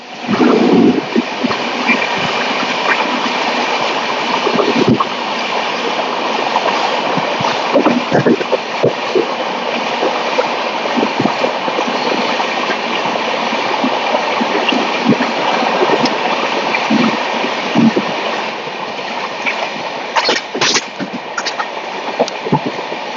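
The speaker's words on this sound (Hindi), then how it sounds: "ट्रेन अभी पटना सिटी के अंदर ही चल रही है" The 22213 Shalimar–Patna Duronto Express rolls through Patna City, giving a loud, continuous rumble of wheels and carriage noise with scattered clanks and rattles throughout.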